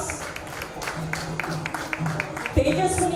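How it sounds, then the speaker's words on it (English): Audience clapping at a chapter launch event in Vijayawada, a thin patter of hands behind a voice talking over it, with a brief louder burst near the end. "A big round of applause"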